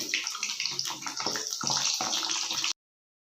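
Shankarpali dough pieces frying in hot oil for a crisp Kannada-style snack, a dense continuous sizzle and bubbling that runs steadily at close range, then cuts off abruptly near the end.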